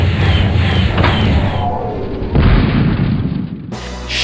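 A spacecraft explodes in the Wing Commander space combat game, a loud rumbling boom that rolls on and fades, followed by a sharp cut to a different electronic tone.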